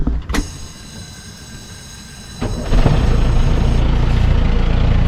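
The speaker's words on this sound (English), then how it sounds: "So you ready to start the engine" Sailboat engine starting: a brief click and crank, then after a couple of seconds the motor catches and settles into a steady loud idling rumble that continues to the end.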